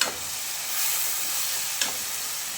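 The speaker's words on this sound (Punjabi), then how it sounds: "ਜੀਰੇ ਦਾ ਤੜਕਾ ਲਾ ਲਿਆ" A cumin tadka sizzling in a pan while mango chutney is being made, with a continuous moderate frying hiss, occasional stirring scrapes and a soft clink near the end, and no talk.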